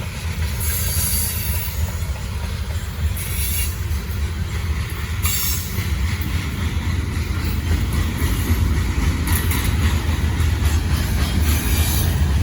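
A Norfolk Southern train rolls past steadily on the Charlotte District line in Gaffney, South Carolina, its loud, continuous rumble and rail noise carrying wheel squeal and bursts of high screeching throughout, with no voices.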